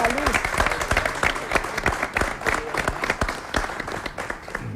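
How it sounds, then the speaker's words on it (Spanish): A TV studio audience applauds in a quick, dense burst of many clapping hands that runs throughout, with a voice speaking briefly over the start. "Lo vamos a aplaudir a la gente de Bolívar que ha venido"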